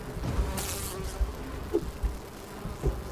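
Bees buzz in the video game Enshrouded, a steady insect drone close by with faint game thumps underneath and no talking.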